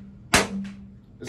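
A Ruger 5.7 pistol chambered in 5.7 fires at a shooting range, giving one sharp, close crack with a short ringing tail, and a second report begins just as the clip ends.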